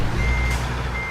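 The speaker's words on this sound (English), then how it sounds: "Backing up a truck." A truck reversing alarm in American Truck Simulator beeps steadily and loudly at close range while the truck backs up, heard alone with a low engine rumble underneath.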